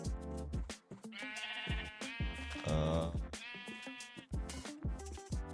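Sheep bleat from Minecraft, with repeated tonal calls that overlap in quick succession against a soft game backdrop.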